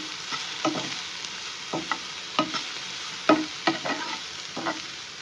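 Onions fry in a pan with a steady close sizzle, while a spatula stirs and scrapes at irregular intervals over the hiss.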